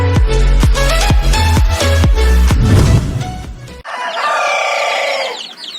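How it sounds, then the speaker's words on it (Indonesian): Merawang crossbreed breeding chickens cluck in a loud, rapid series of close calls, and then a rooster lets out one long, ringing crow. "Ini adalah jenis indukan ayam silangan Merawang rekan-rekan."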